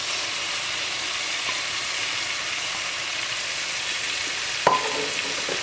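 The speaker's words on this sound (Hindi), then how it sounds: "अब आप इसमें ऐड करेंगे वो फ्राई किए हुए हमारे प्याज जो हैं, और बीच में जाएगी भिंडी।" Okra and fried onions fry in masala in a pan with a steady, loud, close sizzle that holds throughout, broken by a single sharp clink of a utensil near the end, with no talk.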